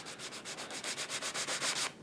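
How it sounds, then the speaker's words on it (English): Sandpaper rubbed by hand over a hammer mark on a wooden train-layout frame: about a dozen quick, even back-and-forth scratchy strokes, close up, ending abruptly. "that's easy to remove with just some sandpaper"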